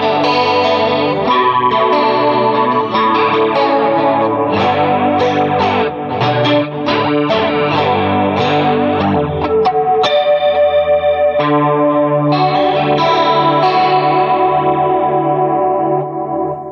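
Electric guitar with coil-tapped pickups played through a chorus effect on a POD Go modeler emulating a Revv G20 amp, a bright shimmering chordal part with light distortion and echo, steady and loud throughout with no talking.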